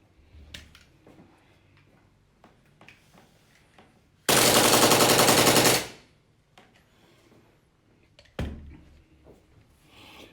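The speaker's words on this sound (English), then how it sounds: "So I'm going to switch on to fully automatic now and see if we can get an RPM up there." An airsoft Glock 18 gas blowback pistol fires one rapid fully automatic burst of about a second and a half, loud and close, set among quiet handling clicks and a sharp knock afterward.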